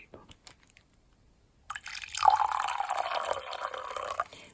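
Water poured into a cup of dark tea, a steady liquid pour that starts abruptly and runs on for a few seconds, close and fairly quiet.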